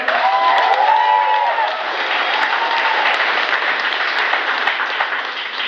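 A large crowd at a religious gathering applauds steadily and loudly throughout, dense clapping with a few scattered whoops.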